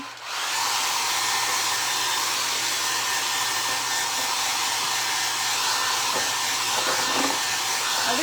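A hair dryer blows on a rusty craft can, a steady broadband whoosh that starts abruptly and holds at an even level throughout.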